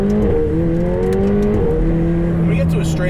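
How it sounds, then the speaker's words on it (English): A McLaren 720S engine runs steadily with rising tonal whine like turbo spool, a car sound loud and close throughout, with a brief shift in pitch midway and speech faintly underneath. "It's turbine-like with boost and spool and blow-off."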